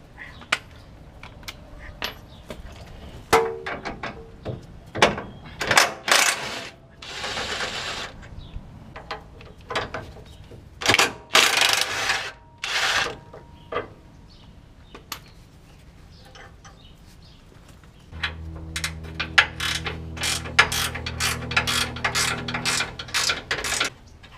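A hand ratchet with a 22 socket clicks in quick irregular bursts on a first-generation Toyota Tundra steering rack, along with metallic clanks and taps, and a steadier low mechanical rattle comes in toward the end.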